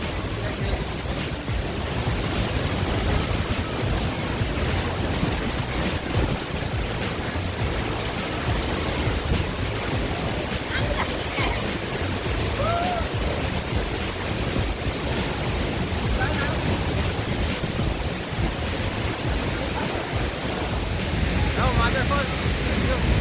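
Mother Falls, a waterfall near Baler, roars with a loud, constant wash of rushing water that fills the whole stretch, and voices are heard faintly now and then.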